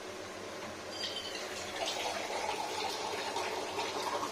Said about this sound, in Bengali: এবার সাইড থেকে অল্প এখন জলটা দেবো, জলটা বের করি